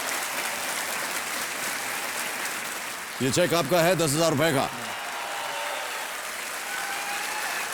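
Studio audience applause at a television quiz show rolls on as a steady wash of clapping, and a voice speaks briefly over it partway through.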